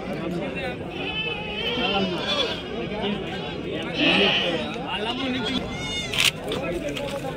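Sheep and goats bleat at a weekly Friday sheep market in Chelur, with goat kids and Beetal breed goats for sale; several bleats rise over a dense, constant crowd murmur and nearby talk.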